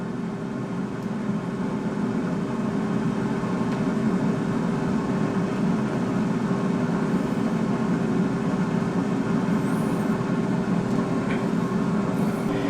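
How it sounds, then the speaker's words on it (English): Air fryer running while preheating in a kitchen, a steady low hum with a constant whir that stays even and unbroken throughout. "Okay, the air fryer has been preheated."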